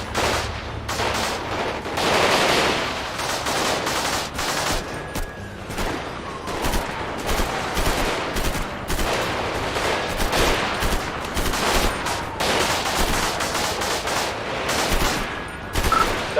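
Heavy, continuous gunfire in a GTA V roleplay shootout, rapid overlapping shots and bursts throughout, loud and close, with occasional whistling tones in the mix.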